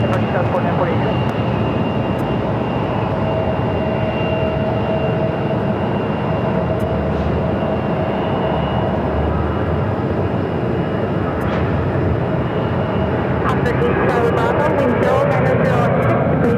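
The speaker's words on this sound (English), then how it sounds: "Takeoff is Alaska Airlines Flight 731 heading to Everett, Payne Field on a 737-900ER." An Alaska Airlines Boeing 737-900ER jet taking off, a broad continuous engine roar holding steady throughout, with radio chatter from air traffic control running over it.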